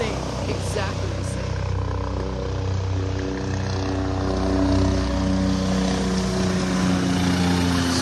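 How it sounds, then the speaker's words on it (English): Helicopter passing overhead at Vanderbilt Beach in North Naples, Florida, a loud steady droning rotor and engine hum sustained throughout, with people talking faintly underneath. "Here comes a chopper."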